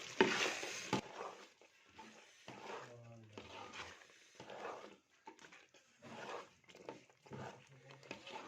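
A pot of pethe salan, a spiced pumpkin curry, is stirred and mixed with a spoon, giving irregular scraping and clinking noises at close range, with light sizzling and intermittent talk between them.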